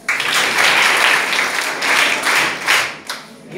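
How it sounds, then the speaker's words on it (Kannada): A big round of applause from children at a rural village school, loud and close, sustained for several seconds in uneven waves before tapering off. "ಏಕಾಗ್ರತೆ ದೊಡ್ಡ ಚಪ್ಪಾಳೆ"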